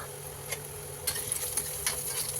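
Chopped onions sizzle in hot oil while a big spoon stirs them, sending irregular scraping scratches over a continuous frying hiss, close and moderately loud.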